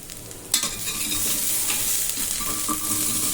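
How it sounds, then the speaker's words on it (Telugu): Ginger garlic paste frying in a pan, a steady close sizzle that jumps louder after a brief pause, with occasional utensil scrapes and clinks and no talking. "పేస్ట్ మీరు పచ్చివాసన పోయే వరకు కూడా వేయించుకోండి"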